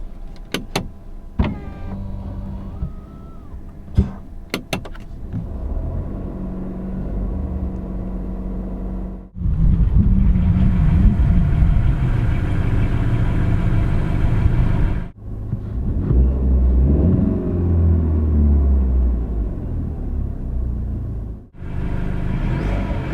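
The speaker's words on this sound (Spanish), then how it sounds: "Os voy a enseñar cómo suena el coche tanto desde dentro como desde fuera" A Mercedes-Benz C-Class C200 petrol engine starts, then idles and revs in long sustained stretches, steady rumbling hum rising and settling, heard close with a few clicks before.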